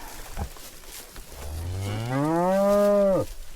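A cow in a grazing herd gives one long, rising, nasal moo, loud and close, after a faint earlier call and a low background hum.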